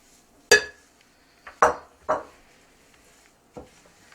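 Crushed salted pretzels are stirred into a bowl, giving a few separate close clinks and scrapes spaced apart with quiet gaps between them.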